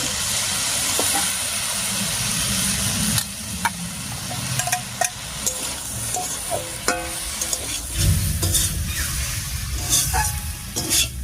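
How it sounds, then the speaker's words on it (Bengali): Fried dried fish with garlic and green chili paste being stirred in a pan with pumpkin greens, potato, eggplant and drumstick, soft sizzling under repeated scraping and clinking strokes of a spatula, close and fairly quiet. "ভেজে রাখা শুটকি মাছ আর রসুন আর কাঁচা লঙ্কা বাটা দিয়ে একটু নাড়িয়ে নিয়েছি"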